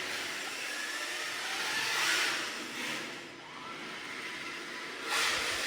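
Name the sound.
RC car drifting around cones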